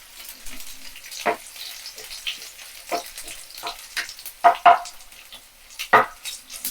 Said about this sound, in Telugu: ఇప్పుడు ఆవాలు వేగిన తర్వాత దంచిన ఉల్లిపాయలు వేసుకోవాలి.